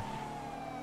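A police car siren in a video game wails briefly with a steady tone, faint and sitting over a low vehicle rumble.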